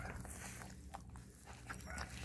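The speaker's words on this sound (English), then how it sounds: "That's Maddie Mo growling at me" A faint, low growl from an Italian Greyhound, a steady rumbling snarl lasting a couple of seconds, quiet and close with no other sounds over it.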